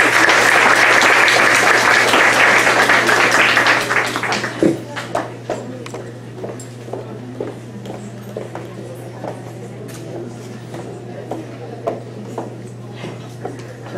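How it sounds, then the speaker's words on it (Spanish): Strong audience applause at a pharmacy course lecture that lasts about four seconds, then thins to scattered individual claps over a steady electrical hum. "Pido fuertes aplausos para la doctora Kate."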